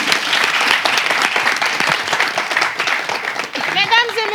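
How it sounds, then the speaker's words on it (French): Studio audience applause at the close of a French television show, a dense steady wash of many hands clapping throughout, with a voice briefly speaking over it near the end. "Ben, applaudissez pour ça."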